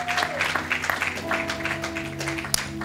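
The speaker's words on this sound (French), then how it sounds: "Acclamons pour la parole de Dieu" A church congregation claps in a steady burst during a service while sustained keyboard tones ring underneath, with a sharp louder clap near the end.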